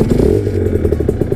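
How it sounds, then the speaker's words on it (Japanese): A small Aprilia RS125 two-stroke motorcycle engine starts on the electric starter, then sputters and idles with a rapid, rattling two-stroke beat, loud and close. "セルでエンジンがかかります。"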